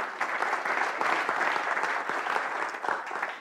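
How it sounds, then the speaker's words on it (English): An audience at a comedy magic gig breaks into a short, lively burst of clapping for a performer called Magic Steve, steady and fairly close. "A round of applause for Magic Steve."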